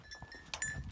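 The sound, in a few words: pack goats wearing bells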